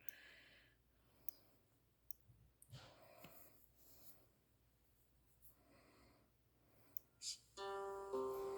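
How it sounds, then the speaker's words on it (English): A button is clicked again and again, giving faint, sharp clicks at uneven intervals in a quiet room, followed at the end by a short electronic tone. "I gotta keep clicking that button."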